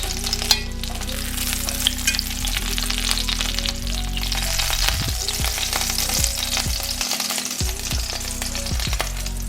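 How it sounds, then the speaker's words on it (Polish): Pork cutlets sizzle loudly in hot oil in a pan, a steady crackling fry with occasional pops and a low hum beneath, no voices. "W ten sam sposób smażę resztę kotletów."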